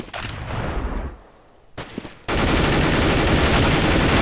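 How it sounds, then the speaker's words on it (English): Rapid close gunfire rattles through a wall in the shooter game CS:GO, with a burst at the start, a brief lull, then a dense, loud continuous volley to the end. "We're shooting through the wall."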